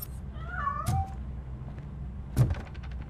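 A cat in the video game RoboCop: Rogue City, hiding inside a piano, gives a short rising meow followed by a couple of soft thumps, heard fairly close against quiet background ambience.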